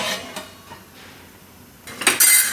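A metal lid set onto a cooking pot of simmering vaghareli rotli, giving a few sharp clanks and clinks near the end, with quiet rattles earlier and no talk.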